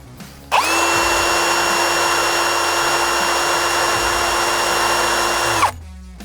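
A Parkside power drill spins up and runs at maximum rotation speed with a steady, loud, high whine for about five seconds, then cuts off, close and without speech.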